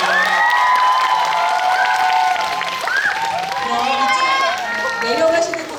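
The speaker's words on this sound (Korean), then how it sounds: "이쪽 내려가시는 동안 큰 박수 계속 보여드리겠습니다." An audience in a Seoul cinema hall, at a live talk event with actors and a director, applauds continuously, mixed with cheering voices and excited calls throughout.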